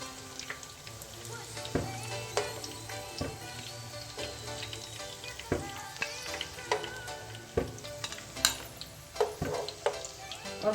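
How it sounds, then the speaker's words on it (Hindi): Potato snacks shallow-fry in oil in a frying pan with a steady close sizzle, punctuated by sharp pops and clinks as pieces are turned and lifted out. "बाकी के जो है वो भी मैं फ्राई कर लेती हूँ।"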